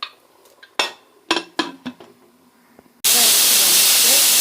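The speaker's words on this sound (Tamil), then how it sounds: "விசிலு." A pressure cooker with egg biryani inside is handled with a few metallic clanks on the lid, then its whistle bursts into a loud, continuous steam hiss that holds to the end.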